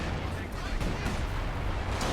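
Artillery fire in a Company of Heroes 2 World War II strategy battle, a dense rumbling barrage of booms and thuds, with a voice talking over it.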